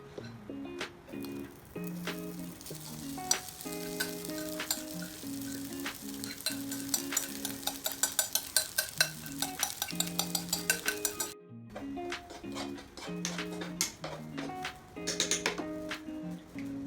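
Squid and rice fry in a hot pan, sizzling steadily while a utensil scrapes and clinks against the metal in quick bursts, with a brief pause before the frying resumes.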